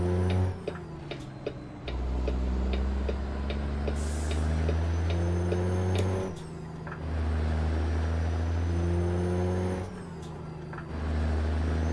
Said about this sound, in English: Yeah, this truck sounds so good.